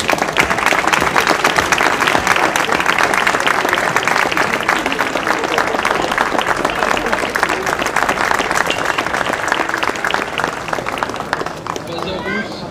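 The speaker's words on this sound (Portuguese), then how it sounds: "Salva de palmas pro Thiagão" Loud, dense applause from a tennis crowd at a Brazil versus Argentina exhibition match, a sustained roar of clapping that holds strong throughout before easing slightly at the very end.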